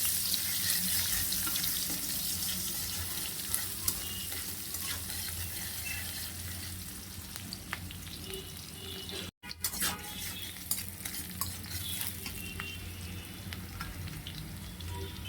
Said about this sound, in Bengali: পেঁয়াজগুলোকে আমি নরম না হওয়া পর্যন্ত ভেজে নিব।